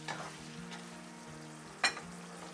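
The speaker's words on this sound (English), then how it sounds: "Stir for 30 seconds." Mapo tofu with beef being stirred in a pan after diluted starch goes in: a soft, steady sizzle of frying sauce with faint scraping strokes and one sharper clack of the utensil near the end, no talking.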